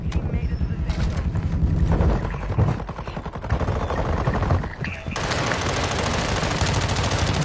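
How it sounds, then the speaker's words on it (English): Bursts of rapid automatic gunfire rattle through a video game firefight, with repeated volleys layered under players talking, followed by a sustained steady noisy stretch near the end. "I hear shots"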